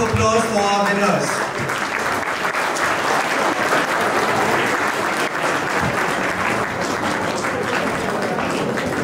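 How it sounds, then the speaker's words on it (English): Loud, sustained applause from a large school audience at a middle and senior school singing competition in Nainital greets the winners, dense clapping filling the whole stretch after a brief snatch of a voice at the start. "Give a big round of applause for our winners."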